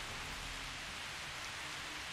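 Steady rain pouring in the dinosaur park game Jurassic World Evolution, a continuous even wash of falling drops with no voices over it.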